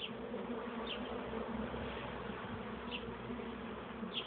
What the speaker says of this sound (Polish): trząchujemy pszczoły